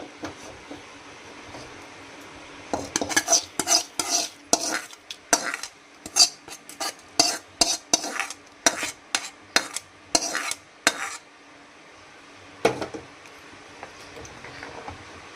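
A spoon scrapes and clinks against a pot while stirring Kerala-style mango pulissery curry just after fried mustard seeds go in, a close, irregular series of sharp knocks separated by short pauses.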